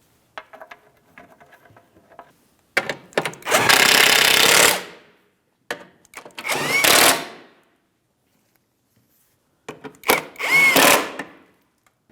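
A power tool tightens bolts on an under-truck shield of a 2007-2014 GMC Sierra 2500 HD 6.0L. It fires in three loud, rattling bursts of about a second each, separated by quiet pauses, with lighter clicks of hardware before them.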